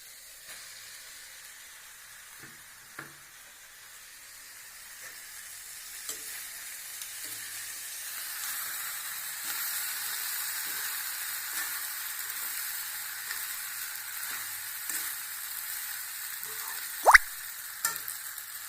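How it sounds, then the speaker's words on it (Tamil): Pasta with masala being stirred and fried in a pan, a steady close sizzle with occasional scrapes and taps of a spoon, growing slightly louder midway. "இப்போ நல்லா பாஸ்தாவை போட்டு மசாலாலாம் போட்டு நல்லா கிளறியாச்சுங்க."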